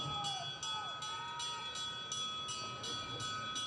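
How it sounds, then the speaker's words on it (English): A bell rings at a track cycling points race for the final lap, striking in a regular rapid series of bright repeated clangs against the arena's background hum while a commentator's voice carries on faintly. "And there's the bell."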